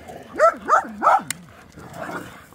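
Dogs on a hiking trail bark three times in quick, close, loud succession, followed by a quieter, muffled vocal stretch.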